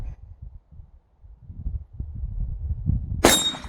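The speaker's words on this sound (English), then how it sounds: "Last shot." A single bright metallic clang rings out from a steel target struck by a bullet after quiet wind-filled moments with a faint report at the end of the shot.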